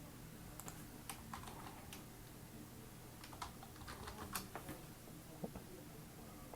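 Scattered, uneven keystrokes on a computer keyboard, soft and close, clicking intermittently over a steady background hum with no speech.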